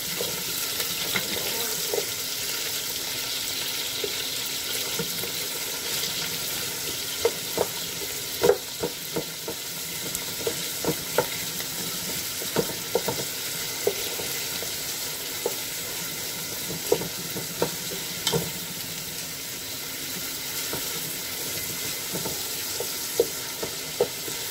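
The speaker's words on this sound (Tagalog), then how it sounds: "Siguraduhin brown ang sibuyas tsaka bawang bago ilagay ang ibang sangkap." Onion and garlic fry in a pan for pancit, a steady broadband sizzle running throughout with scattered sharp clicks and taps of stirring, no voices.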